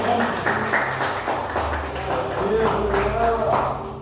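Church congregation at a communion service applauding steadily for about four seconds, a dense continuous clatter of hands with music and voices blended underneath.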